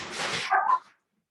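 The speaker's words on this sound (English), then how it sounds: "dogs." A dog barks a few times in a quick, close burst, with no voices around it.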